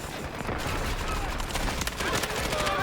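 Rapid SMG fire in the shooter game Delta Force, dense overlapping bursts of shots running continuously and loud throughout with no clear pauses.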